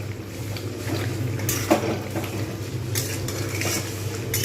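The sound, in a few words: stir-frying coriander chicken in a pan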